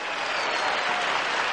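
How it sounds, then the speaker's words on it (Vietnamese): A studio audience at a televised Vietnamese game show breaks into sustained applause, thick even clapping filling the room at full volume with no voices on top. "Chúng ta cùng dành một tràng vỗ tay nồng nhiệt cho Paradol cảm cúm"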